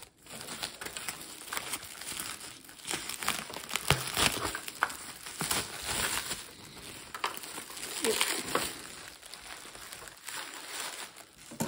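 Plastic keys being pried off a Soviet Partner 01.01 computer keyboard, giving dense crinkly clicks and scraping rattles that run steadily throughout, fairly close, with no talk.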